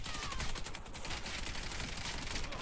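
A gunfire exchange in the Warface first-person shooter, with dense, rapid bursts of automatic and pistol fire that run continuously and loudly throughout.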